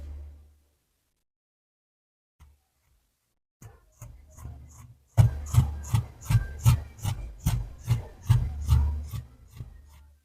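Scissors cutting fabric for wide-leg palazzo pants, a few tentative snips followed by a steady run of rhythmic rasping cuts, close up, with no talk.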